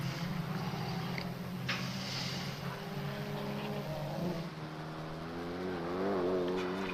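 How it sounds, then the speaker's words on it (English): A Mini race car at a Classic Sports Car Club race at Castle Combe circuit passes with a rising, high supercharger whine over its engine note, the pitch climbing as it accelerates. "the Mini has a mechanically driven supercharger rather than exhaust-driven turbo, and you can really hear it whine"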